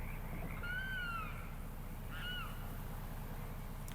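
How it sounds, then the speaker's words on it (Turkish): Birds call in a Louisiana swamp in American Truck Simulator, two short cawing cries over a steady low truck engine rumble. "Kuş sesleri çok iyi oluyor."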